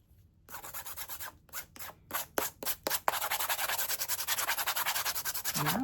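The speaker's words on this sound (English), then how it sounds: "Let's see if we can just sand it a little bit." A power sander whirs and rasps against a surface in several short bursts, then runs steadily in a continuous gritty buzz, close up.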